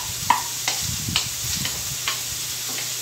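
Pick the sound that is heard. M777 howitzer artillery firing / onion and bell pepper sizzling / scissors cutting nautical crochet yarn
onion and bell pepper sizzling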